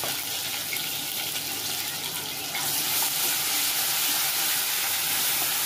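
Curry leaves and chili paste dropped into hot oil for a chole bhature tempering give a steady, close hiss and crackle that swells louder about halfway through and keeps sizzling.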